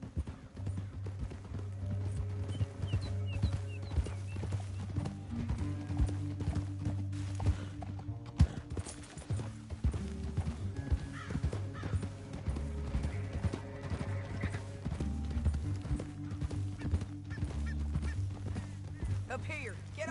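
Horse hooves clip-clop steadily in Red Dead Redemption 2, a rhythmic gallop under background music, with occasional brief voices.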